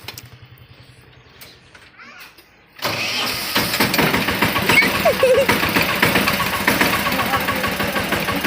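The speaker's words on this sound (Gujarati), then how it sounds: "ટ્રેક્ટર ચાલુ થાય" Quiet voices and a laugh, then a tractor engine cranks and catches, settling into a loud, steady, rumbling idle.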